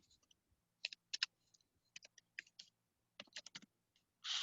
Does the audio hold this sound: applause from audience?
no